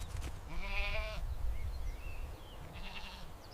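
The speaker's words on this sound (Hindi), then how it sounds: "बकरी चमेली खाने की तलाश में घर से निकलती है।" A goat bleats twice, one fuller cry followed by a shorter, softer one.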